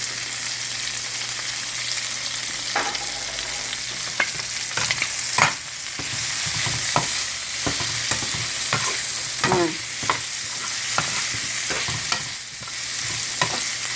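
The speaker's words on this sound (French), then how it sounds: "je vais rajouter mon ail et gingembre" Garlic and ginger sizzle steadily in a hot pan for chicken gizzards, with repeated scraping strokes of a utensil stirring them through the frying hiss.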